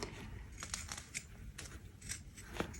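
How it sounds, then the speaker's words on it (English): Pinking shears trim fabric down to a quarter-inch seam allowance, giving a series of quiet, crisp snips at an uneven pace over a faint room background. "Using some pinking shears here."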